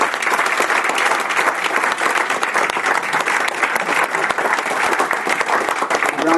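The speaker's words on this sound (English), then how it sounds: "How about a round of applause?" Guests at a county human rights recognition dinner give a loud, sustained round of applause for a retiring commissioner, a dense, even clatter of many hands close by, with no speech over it.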